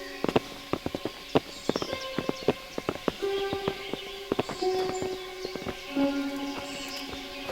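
Horses' hooves clip-clop in the video game Kingdom Come: Deliverance, sharp irregular close thuds at a walking pace, with faint bird calls and soft musical tones underneath.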